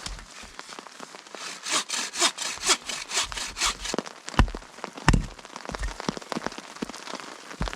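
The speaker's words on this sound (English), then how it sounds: "this dry spruce is super hard to split. Just full of knots" Dry, knotty spruce being worked for firewood at a rainy winter campsite, with a run of rhythmic rasping wooden strokes followed by heavier, irregular knocks and scrapes, close, over a steady patter of rain.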